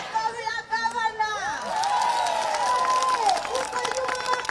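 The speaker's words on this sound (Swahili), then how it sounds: "Makofi ya gavana" Crowd applause for Governor Wamatangi at a Kiambu gathering led by a pastor: a voice first, then steady scattered clapping from many hands at moderate distance, with a wavering voice carrying over the clapping.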